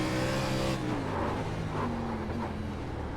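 Race car engine in a NASCAR O'Reilly Series racing game on the bumpy San Diego road course, steady loud drone that drops in pitch as the driver downshifts into first gear for a corner.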